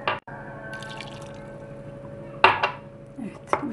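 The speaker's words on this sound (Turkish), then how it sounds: "Sebzelerimin üstünü geçecek kadar su ekliyorum." Water runs into a pot of chopped vegetables for a baby's vegetable soup, a steady close pour broken by a few sharp clinks of cookware and drips.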